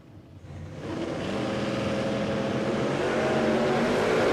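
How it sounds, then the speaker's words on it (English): At a Willowbank Raceway drag racing meet, a Toyota Celica Supra launches down the track. The engine roar builds quickly and then holds as a loud, steady blare, with no one speaking. "Wayne Height in the Boss Hoses Toyota Celica Supra up against Rob Price in the LH Tirana."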